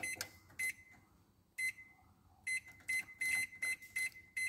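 Short electronic beeps from a microwave oven keypad sound one after another, evenly spaced tones with a brief pause, then a quicker run of beeps, close and clear.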